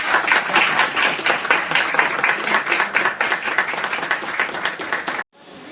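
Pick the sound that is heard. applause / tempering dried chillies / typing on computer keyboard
applause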